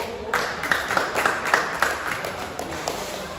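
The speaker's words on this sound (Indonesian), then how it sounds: "Saya beri tepuk tangan dulu." A classroom of students claps together in a brisk burst of applause. The claps are fairly close and sharp, with some louder individual claps standing out over a steady patter.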